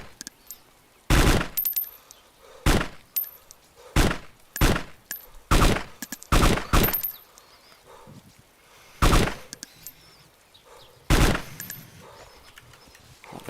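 Gunfire in the survival game DayZ: roughly a dozen sharp, loud shots, some singly and some in quick pairs, spread irregularly over the span with brief quiet gaps between.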